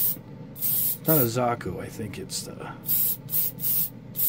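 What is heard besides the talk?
spray painting metallic red paint on a Gunpla kit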